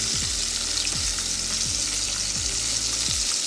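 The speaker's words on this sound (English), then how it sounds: "after about 1 minute of frying, they already look like this" Shrimp frying in a pan, a loud steady sizzle with crackling spatter and several low knocks or scrapes at regular intervals, no voices.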